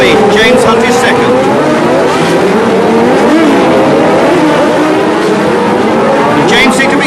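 Formula One race cars at the 1976 Long Beach Grand Prix on a street circuit hairpin, loud wailing engines rising and falling as cars pass, under continuous excited commentary.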